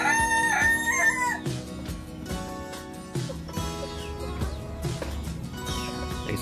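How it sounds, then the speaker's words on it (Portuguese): A rooster crows at the start, followed by ongoing clucking and squawking from a flock of chickens close by. "Tem bastante galinha, né?"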